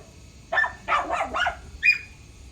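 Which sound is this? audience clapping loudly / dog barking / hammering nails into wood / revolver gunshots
dog barking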